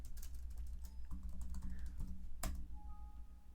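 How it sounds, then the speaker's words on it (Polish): Someone types a password on a computer keyboard, a quick close run of light key clicks with one sharper tap near the end, quiet with no talking. "Najpierw piszę niepoprawnie hasło"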